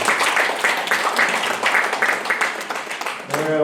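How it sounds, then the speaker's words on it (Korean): An audience at an awards ceremony for the Korean community in Washington applauds the organizers. Sustained, even clapping fills the whole stretch, loud and close, then cuts off near the end as a voice comes in. "박수 한번 보내주시면 감사하겠습니다"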